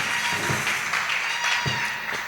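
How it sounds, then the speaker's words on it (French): A church congregation applauds with dense, steady clapping that holds at an even level throughout, with no voices standing out. "Est-ce qu'on peut lui donner une acclamation,"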